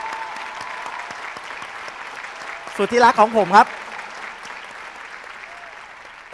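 A crowd at an Amway diamond-level honor pin award ceremony claps steadily throughout, the dense applause running under someone speaking over a microphone.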